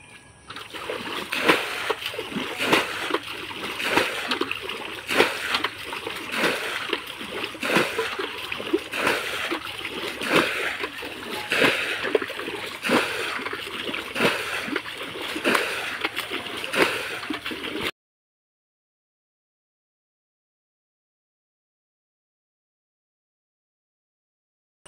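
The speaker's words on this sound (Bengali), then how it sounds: "এবার সেচ দেওয়া শুরু।" Water is bailed out of a village ditch to catch catfish, with rhythmic splashes and sloshes about once a second for roughly eighteen seconds before it goes silent.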